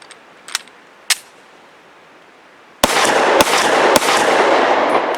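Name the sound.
Walther PPQ SC pistol firing Hornady XTP 115 grain hollow points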